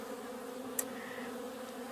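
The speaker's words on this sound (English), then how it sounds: "We can see that a lot of the bees that are coming in have pollen on their legs." Honey bees buzz at a wooden hive entrance, a faint, steady drone close to the box that holds through the whole stretch, with one brief sharp tick partway through.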